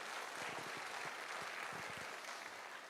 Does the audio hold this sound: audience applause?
yes